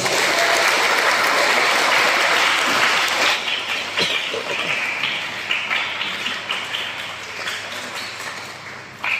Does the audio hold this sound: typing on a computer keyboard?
no